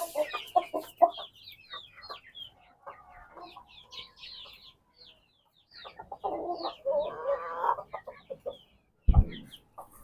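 Asil chickens, including parrot beak and Surma breeds, cluck and chatter in short, scattered bursts nearby, with quiet gaps between calls and a sudden thump near the end.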